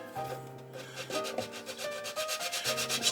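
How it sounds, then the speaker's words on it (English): A medium-grit sanding stick rubs back and forth over a plastic part of a U.S.S. Reliant scale model, giving a close, steady rasping scrape in quick even strokes with a faint hum underneath. "Just to smooth that out, I'll come in with my medium sanding stick."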